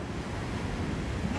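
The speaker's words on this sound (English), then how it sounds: "Maybe you can listen to the waves." Ocean waves and surf rush and roar close by, mixed with heavy wind buffeting the microphone, a brief, loud, continuous wash of noise.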